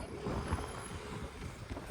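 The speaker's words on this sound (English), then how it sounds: "it is super windy" Strong wind buffets the microphone with a low, constant rumble and rushing noise, fairly quiet overall with no voices.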